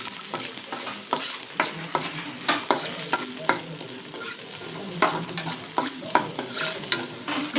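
Sliced onions and dried red chillies sauté in a pan for pomegranate poriyal, with a steady oil sizzle under repeated scraping stirs that come in an uneven rhythm.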